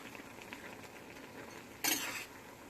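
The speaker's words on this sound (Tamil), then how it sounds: "ஸோ இப்போ கிண்டிக்கலாம்." A short burst of metal scraping and clinking as a utensil stirs broccoli 65 in a pan, set against a quiet background hiss.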